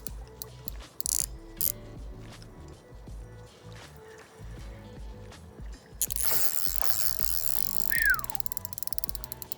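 A fishing reel's clutch ratchet clicks out in rapid bursts as a carp takes line at a lake, with handling clatter and a fast buzzing run near the end.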